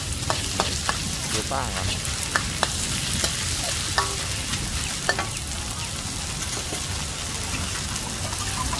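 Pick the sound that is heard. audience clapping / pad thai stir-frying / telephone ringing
pad thai stir-frying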